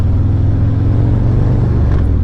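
A Harley-Davidson Road King Special 114 motorcycle exhaust gives a steady, deep, loud idle rumble up close, continuous and even, with no voices over it.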